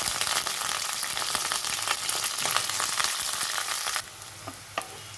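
Onion sizzling loudly in hot oil in a pan already holding black mustard seeds, curry leaves and chopped green chilli, for a potato curry served with dosa; a dense, crackling hiss that drops to a softer sizzle near the end.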